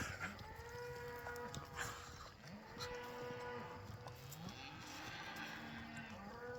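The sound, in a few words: cows mooing on the prairie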